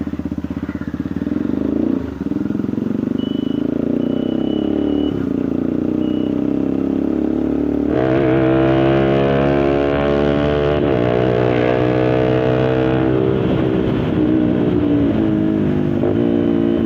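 Road traffic rumbles past during a motorcycle ride, a steady loud engine drone with a heavier vehicle's tones and a faint repeating beep emerging midway, close and continuous without talk.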